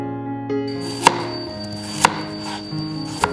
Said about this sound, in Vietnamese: quý anh chị hãy cắt chuối ra và chúng ta sẽ thái chuối như thế này